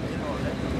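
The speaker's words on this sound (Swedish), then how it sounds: "Det är för att det blåser och vi är på havet." Wind at sea while sailing roars steadily as broadband buffeting noise close to the microphone, dense and constant for under a second with no clear gusts or breaks.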